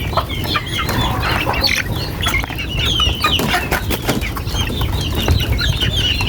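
Chicks peep nonstop while being fed, a dense, close chorus of high chirps over a steady background rustle.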